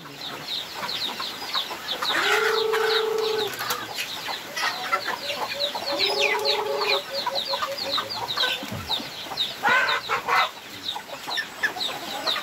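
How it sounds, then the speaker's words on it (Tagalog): Several chickens cluck and squawk nearby in repeated bursts, with a couple of longer drawn-out calls over a busy farmyard background. "Ayan oh, daming manok."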